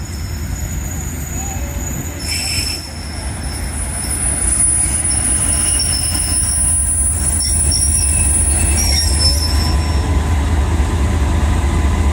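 Pakistani passenger train led by locomotive 6017 rolling through Pattoki railway station, a loud steady low rumble of wheels and carriages with faint squeals and high metallic tones, close by throughout.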